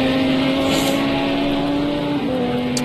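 Lamborghini GT3 race car from Project CARS 2 at Brands Hatch, its engine holding a loud, steady drone that shifts pitch slightly near the end, like a car lapping the circuit.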